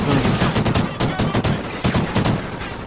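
Rapid automatic gunfire in the video game Call of Duty: Ghosts on PS4, loud, dense bursts of shots close together across the whole span, with faint voices underneath.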